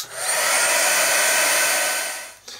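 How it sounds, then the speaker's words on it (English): A heat gun blows steadily and loudly over a mixed media art journal page to dry turquoise paint, a continuous broadband whoosh held for about two seconds before it cuts off. "Now I've not held my heat gun too close to the page because I didn't want the air inside there to come up and bubble"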